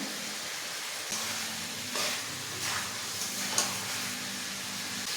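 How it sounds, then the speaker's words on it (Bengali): Chicken sizzling as it is sautéed in a pan for chicken kosa, a steady close frying hiss with a few louder scraping stirs, no voices. "আরও কিছুক্ষণ কষিয়ে নেব।"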